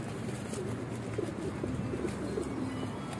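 Several pigeons coo softly in a steady low murmur from a rooftop loft, with faint background chatter of other birds and no speech.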